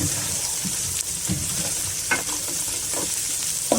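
Onion paste fries in hot oil in a pan for Bengali bhuna khichuri, a steady close sizzle with occasional spoon scrapes and stirring clicks throughout.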